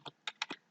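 A quick burst of four crisp keystrokes on a computer keyboard as a file name is typed, close and clear against near silence.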